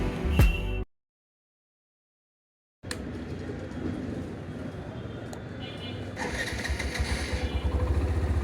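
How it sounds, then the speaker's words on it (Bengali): A Hero Xtreme 125R with a 125cc air-cooled fuel-injected engine fires up on the self starter after a brief silence, then settles into a steady idle that grows slightly louder, with someone talking over it. "তো বাইকটা স্টার্ট করলাম"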